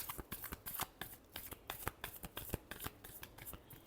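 Tarot cards being shuffled for a Scorpio reading: quick, crisp riffling flicks and slaps in an uneven rhythm, close and fairly quiet, with no talking.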